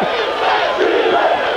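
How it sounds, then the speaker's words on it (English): Moms and family in the stands at a 1991 Class 5A state high school football championship, Southridge vs. Orlando Evans, cheering for Southridge as a loud, steady crowd roar of voices without clear individual words. "Has a few moms and family in the stands right there cheering their boys from Southridge on"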